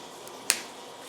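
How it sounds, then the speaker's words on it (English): A factory-torqued screw on the rear cover of an OS FS-20 model engine cracks loose during disassembly, giving a single sharp, close snap over quiet background. "That's what those screws should sound like when they pop loose from an engine that's been torqued at the factory."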